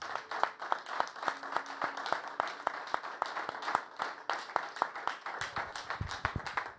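A church congregation applauding during a sermon, steady rhythmic clapping from many hands that carries on throughout, moderately distant and without pause.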